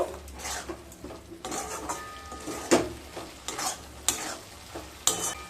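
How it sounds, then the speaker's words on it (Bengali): Okra being mixed in a pan with yogurt, slit green chillies and garam masala for dohi bhindi, with a soft sizzle under repeated scraping and stirring strokes of a spoon against the pan, close and alone. "দিয়ে খুব ভালোভাবে মিশিয়ে নেব।"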